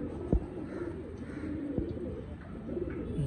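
A pair of semi-adult teddy pigeons coos softly in low, repeated murmurs with a few sharp knocks, quiet and close, with no talk over it.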